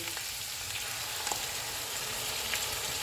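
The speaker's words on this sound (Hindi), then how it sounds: "इसको हम 3 से 4 मिनट तक भूनेंगे" Beef fries in a pot for degi beef pulao, a dense continuous sizzle with faint crackles throughout, steady and close with no voices.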